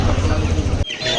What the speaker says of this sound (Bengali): কত মুরগি, দেশি মুরগি, সোনালি মুরগি, কত কিছু আছে।